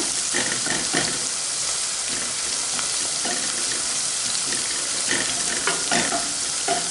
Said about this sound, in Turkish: bardağı kadar da domates sosu ilave edeceğim